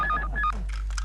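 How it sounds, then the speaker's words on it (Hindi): Telephone dialing tones from a landline in a Hindi sitcom scene, a quick series of short beeping DTMF tones, clear and close, with no talking over them. "वहां से दिलरुबा का फोन आ रहा है"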